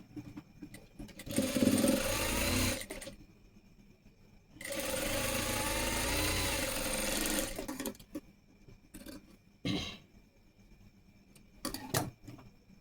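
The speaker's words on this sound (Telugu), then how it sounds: "మనం స్టిచ్ చేసిన కుట్టు కనబడకుండా పైన క్లాత్ పెట్టి ఒక స్టిచ్ అయితే వేసుకురావాలి" A sewing machine stitching blouse cloth runs in two sustained bursts of steady mechanical whirring, then gives several short stuttering runs and clicks, all close with no speech.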